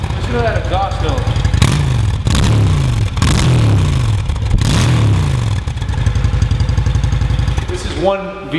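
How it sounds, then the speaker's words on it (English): A stock-exhaust 2006 Honda Shadow Aero 750 V-twin cruiser revs close and loud, several throttle blips rising and falling over a lumpy idle, with some talk underneath. "Listen to that exhaust note."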